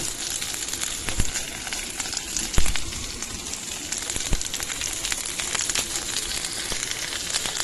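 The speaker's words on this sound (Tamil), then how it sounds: "அப்புறம் வெங்காயத்தை போட்டு வதக்கலாம்." Onions sautéing in a pan with green chilies for chutney, a continuous close sizzle and crackle with a few louder pops of stirring, no voices.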